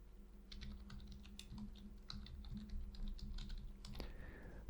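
An email address is typed on a computer keyboard, a quick, uneven run of soft, close key clicks with a slightly heavier tap near the end.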